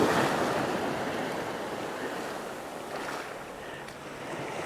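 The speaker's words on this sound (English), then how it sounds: "Not everybody can enjoy a tropical beach like this." Waves breaking on Bamboo Beach, a tropical shore on Koh Lanta, Thailand: a continuous broadband wash of surf, fairly close and steady, with a slight swell and ebb and light wind noise on the microphone.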